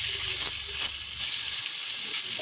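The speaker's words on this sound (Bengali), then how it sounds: "একদিকে শোল মাছ ভাজা করে নিলাম ভুনার জন্য" Snakehead fish fries in a pan for a bhuna curry, giving a close, continuous hissing sizzle with one small pop near the end and no talk.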